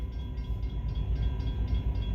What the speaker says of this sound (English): This train track hardly ever has a train going across it.